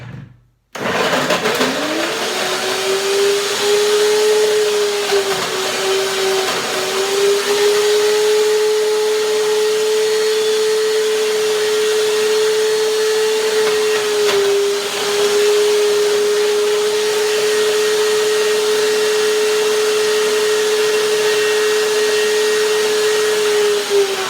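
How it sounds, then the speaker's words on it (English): A blender starts up and whirs continuously at close range, blending slightly frozen ingredients and cashew cream, a loud steady motor drone with a brief dip in pitch midway. "Blender dance."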